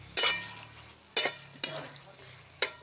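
Fish seasoned with salt and chilli is stirred while frying in a pan: four sharp scraping stir strokes spaced about a second apart over a soft, steady sizzle.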